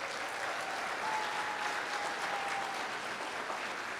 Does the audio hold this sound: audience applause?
yes